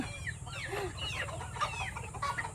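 Purebred White Kelso chickens at a breeding farm, soft clucks and short calls repeating across the scene at moderate distance over a low steady background hum.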